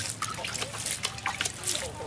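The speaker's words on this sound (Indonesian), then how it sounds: "ada probiotik yang sudah kita aduk tadi, kita campurkan, kita siramkan" Probiotic liquid being poured over fermented goat feed, giving a close, steady trickling and splashing under a person talking.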